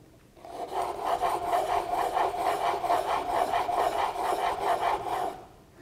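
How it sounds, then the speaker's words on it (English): A blade is sharpened on a very fine sharpening stone, giving a steady, close rhythmic rasping of about a dozen even back-and-forth strokes over several seconds, with no talk. "So now I'm going to the very fine stone."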